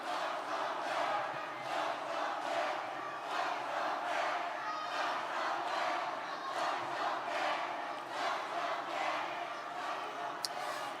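Crowd at a Democratic Party national convention cheering and applauding as a candidate is welcomed to speak, a sustained roar with rhythmic swells of chanting and clapping, heard from a distance.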